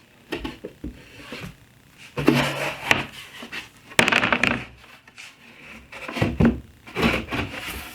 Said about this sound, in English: So when you want to set it up, I have this on hinges.